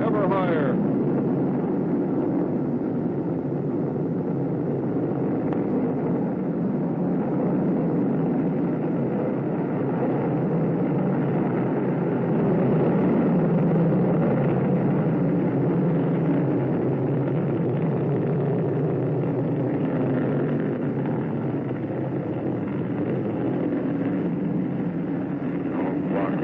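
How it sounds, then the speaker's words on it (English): The Gemini 8 rocket lifts off with a continuous, heavy engine roar rumbling steadily for nearly half a minute, distant but loud, with little change in level. "And we have a liftoff. Dirty orange flame against the sky."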